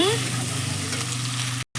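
Steady, loud sizzling of meat frying in a hot pan, continuous and close, with a brief drop to silence near the end.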